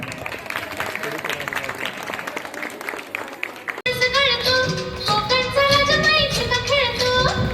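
Clapping from a gathered audience at a Ganesh festival Mangalagour celebration, steady and dense for about four seconds before singing with music takes over.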